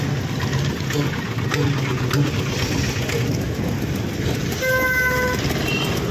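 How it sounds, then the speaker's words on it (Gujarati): A train horn sounds near the end at a closed level crossing, over steady rumbling traffic and engine noise, with a loud continuous background throughout. "આ ટ્રેન આવી ગઈ"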